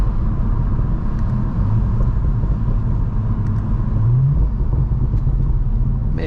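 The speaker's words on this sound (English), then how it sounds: "May have been able to hear the burbles there." Tuned Audi B9 S4 with 034 Motorsport R2.0 tune and VPS deletes driving, its exhaust giving a steady, loud low rumble throughout with faint crackling burbles riding on top.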